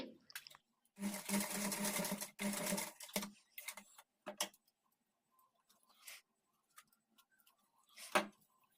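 A sewing machine stitches fabric in short bursts, a fast, close whirring chatter running for a second or two at a time, then stopping, with several brief runs and pauses between them.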